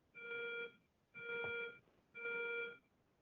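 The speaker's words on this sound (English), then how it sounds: "That is a fire alarm." A school fire alarm sounds in three loud, evenly spaced electronic bursts of about half a second each, with short gaps between them and no talking.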